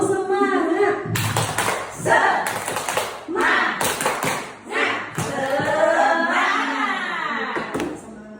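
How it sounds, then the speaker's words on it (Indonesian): A group of teachers at a school gathering does a rhythmic tepuk semangat clapping routine, sharp bursts of hand claps in patterned sequences mixed with loud chanted voices close by. "Nah, tepuk semangat."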